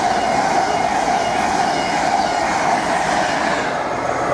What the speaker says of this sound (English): We got a through train about to race through.